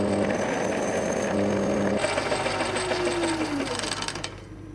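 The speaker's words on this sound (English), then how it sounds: "just to put them in the lathe and turn down the heads so they get rid of the hex parts" Metal lathe turning down the hex heads of bolts in a workshop: a loud, steady motor whine with cutting noise and a falling tone as it winds down at the end.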